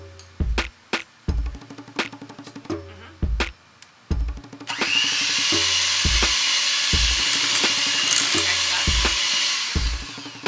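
An electric mixer whirs steadily through cupcake batter for about six seconds after a string of sharp knocks and clatters, close and loud, with no talking.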